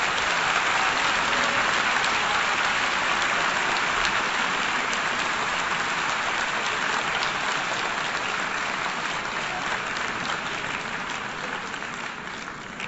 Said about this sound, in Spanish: La Asamblea ha aplaudido ya los resultados.